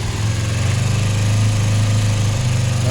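A cold-blooded 1988–2007 Kawasaki Ninja engine that sat all winter idles steadily with a low, rough, pulsing drone, loud and close, with no voices.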